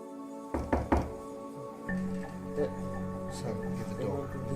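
Knocking on a door, a few quick hollow thuds in a cluster near the start, then a steady room hum with faint background sounds.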